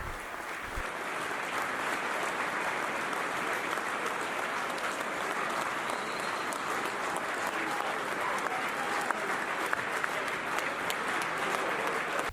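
Football fans at a Hartlepool United versus Exeter City match hold a minute's applause in commemoration, a continuous, distant roar of clapping from a large stadium crowd that stays even throughout.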